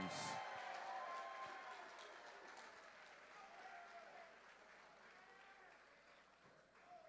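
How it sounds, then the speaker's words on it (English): Spectators applaud after an MMA bout at CW 63, fairly faint and distant, a broad crowd clapping that slowly fades across the stretch. "how about a round of applause for our first fight to go the distance?"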